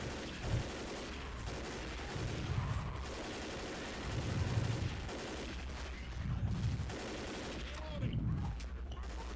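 Gunfire in the zombie shooter Left 4 Dead, faint repeated bursts of low thudding shots arriving roughly every two seconds in a distant-sounding battle, with quiet voices mixed in.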